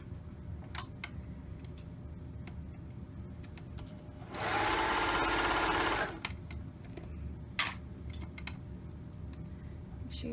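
A sewing machine runs in one short, close burst of about two seconds while sewing a romper's inseam, set against a quiet room with scattered small clicks and handling taps before and after.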